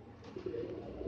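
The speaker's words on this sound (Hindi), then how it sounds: "ये देखिए भाई, बहुत ही अच्छा कबूतर है।" Pigeons of a desi breed at a seller's loft in Hyderabad coo softly and continuously, a low rolling murmur close by with no talk.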